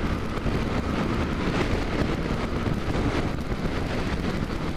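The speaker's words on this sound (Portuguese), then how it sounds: "O vento tá forte" Strong wind buffets the microphone while riding a Honda XRE 300 motorcycle, a loud continuous low roar and rumble with no break.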